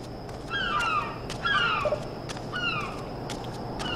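Bird calls in the video game Submerged: three bursts of harsh, cackling, crow-like cries with falling pitch, fairly close and loud over a soft ambient bed, with gaps between each burst.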